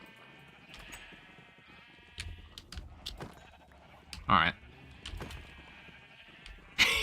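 Sheep bleating in the Minecraft video game, several short wavering bleats scattered through the moment, two louder ones standing out near the middle and end, over quiet game ambience and occasional soft talk.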